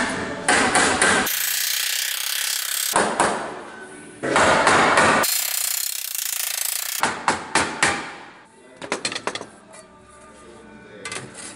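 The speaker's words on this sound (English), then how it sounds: "using the hammers and the bag, we're gonna get this all formed into shape" A piece of 18 gauge sheet metal is hammered into shape over a sandbag for a Mad Max Interceptor XB Falcon build. Loud metallic strikes ring out, first in dense bursts and then as separate blows, near and alone.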